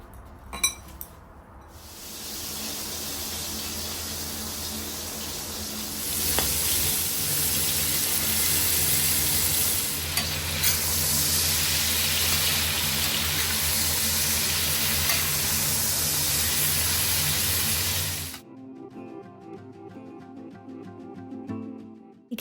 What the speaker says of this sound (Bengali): এগুলো এখন একটু ভালো করে ভেজে নেব।